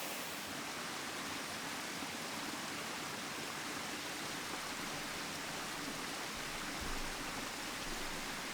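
River water flows in a steady, broad rushing wash, even and continuous throughout with no voices.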